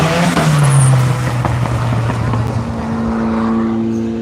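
A race car lapping a track sweeps past with a falling engine pitch, followed by a steady droning tone; voices talk underneath.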